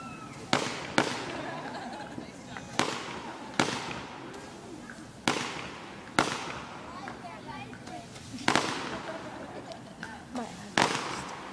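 Outdoor fireworks bang in a loose series of about ten sharp blasts, some near and loud, each followed by a crackling tail, while people talk in the background between bursts.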